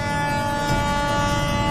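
A train heard in a movie scene, a loud, constant droning rumble with sustained horn-like tones running straight through, without any speech.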